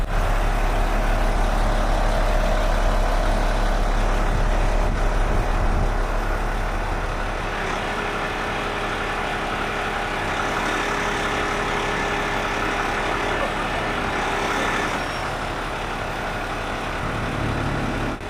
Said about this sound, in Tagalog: Hindi ako makapaniwala sa katatagan ng truck ko.